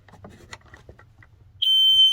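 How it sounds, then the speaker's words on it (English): Faint rustling and handling noises inside a van or RV, then a smoke detector being tested lets out a loud, piercing continuous beep near the end. "I can see the smoke detectors right over here"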